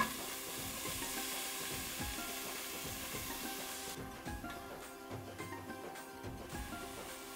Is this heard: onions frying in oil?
yes